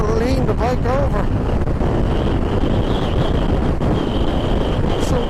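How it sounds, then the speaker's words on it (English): Strong wind roars steadily across the microphone of a motorbike rider on the Scottish North Coast 500, loud and buffeting throughout, with a voice speaking faintly beneath it. "Jeez, that wind is unbelievable."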